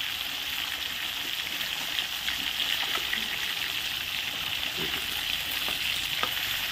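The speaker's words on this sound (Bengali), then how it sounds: "তো দেখো এক পাশ ভাজা হয়ে গেছে, এখন একটু আমি আস্তে আস্তে উল্টিয়ে দিচ্ছি।" Fish fries in a generous amount of oil in a pan, giving a continuous soft sizzle and bubbling hiss at moderate volume, with faint clinks of turning the fish; no voices.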